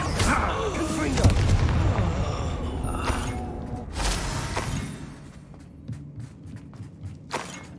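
Confringo fire spell blasts in Hogwarts Legacy, booming magical explosions with crackling impacts amid combat sounds, several bursts followed by quieter footsteps and thuds as the fight settles.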